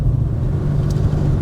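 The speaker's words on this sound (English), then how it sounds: "Let's just run it up through the gears again." Porsche 914/4 engine running up through the gears, a steady loud close rumble held for a moment without a clear rise, no voices.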